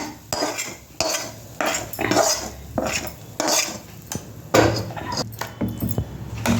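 A spoon stirs adai batter mixed with a tempering of green chilli, onion and curry leaves in a metal vessel, producing close, rhythmic scraping clinks roughly twice a second with no talk.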